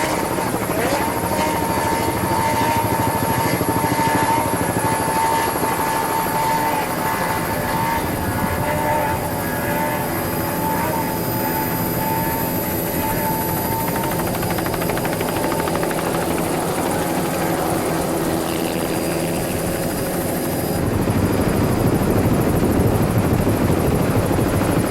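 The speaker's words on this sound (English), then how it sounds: "listening to those Johnson V8 motors put out a lot of power" Racing boats powered by Johnson V8 outboard motors run at Newburyport, a loud, steady, droning engine roar with a high whine that holds throughout and swells near the end, with no talk.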